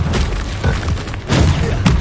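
Spell explosions from Confringo in Hogwarts Legacy combat, repeated booming thuds and blasts layered with game effects and a voice calling out spells over a busy fight.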